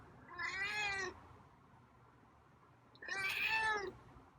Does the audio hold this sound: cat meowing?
yes